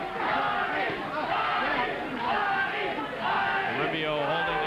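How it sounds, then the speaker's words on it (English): Boxing crowd from Long Island chanting for their fighter at a bout, rhythmic rising and falling voiced chants repeating in waves, loud and close throughout. "the chant of Buddy goes up from the crowd from Long Island that have traveled in to see their man, Buddy McGirt."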